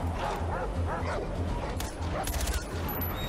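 Rottweilers in Far Cry 4 barking and whimpering in a string of yips and yelps amid gunfire and game noise, fairly close and busy, with no one speaking.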